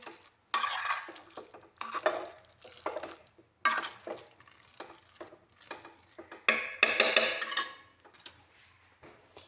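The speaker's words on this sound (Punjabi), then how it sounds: "ਇਹਨੂੰ ਚੰਗੀ ਤਰ੍ਹਾਂ ਨਾਲ ਆਪਾਂ ਕਲਰ ਨੂੰ ਮਿਕਸ ਕਰ ਦਾਂਗੇ" A spoon stirs food colouring through cooked sweet rice, giving soft intermittent scraping and rustling strokes in short bursts, close up with quiet gaps between them.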